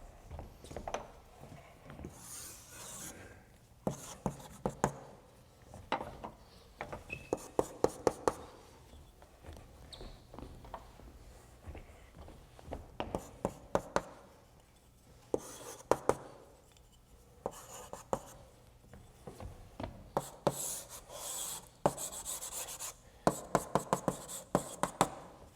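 A lecturer draws a diagram on a board during a math lecture, with chalk tapping and scraping in irregular bursts, quiet and roomy, with long pauses between strokes.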